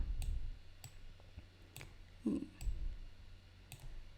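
A computer mouse clicking while someone works in the Canva design app, giving a handful of sparse, faint, close clicks over quiet room noise, with no speech.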